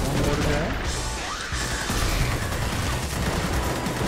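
Mortar explosions thunder in the Vietnam co-op DLC of the video game Magicka. A dense, loud barrage of blasts and crashes runs continuously, with voices talking over it.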